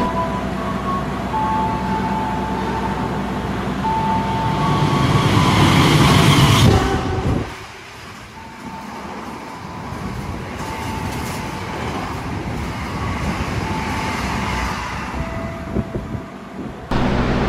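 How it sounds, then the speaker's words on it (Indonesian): A Taksaka express train from Gambir bound for Yogyakarta overtakes at speed, its loud, close rumble building for several seconds before cutting off abruptly, then a quieter continuous rolling hum of the train left behind. "Kereta Singasari bakalan tunggu disusul oleh kereta Taksaka dari Gambir tujuan Yogyakarta."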